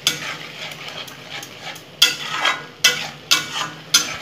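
Spicy potato curry stirred and fried in a pan, rhythmic scraping strokes about every half second over a light sizzle, close and alone.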